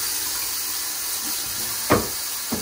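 Water runs steadily from a tap while motor parts from a Singer 431G Convertible sewing machine are washed, a continuous hiss with a couple of brief splashes near the end.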